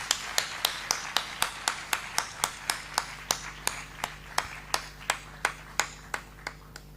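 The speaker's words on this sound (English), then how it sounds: "Can we have a big round of applause again," At a teacher training event, clapping comes as a slow, regular series of distinct claps, each crisp and fairly close, repeating evenly at a moderate level with faint room hum beneath.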